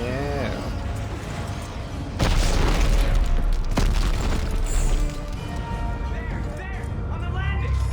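A rocket launcher shot explodes in a video game, a loud low boom lasting a few seconds amid game sounds, with a second sharp crack, and a voice is heard nearby.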